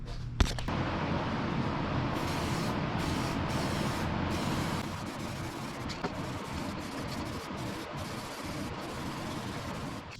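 Spray primer hisses steadily from an aerosol can onto a car's quick change cover during an E82 competition drift build, a continuous close broadband spray with brief pauses and no talk.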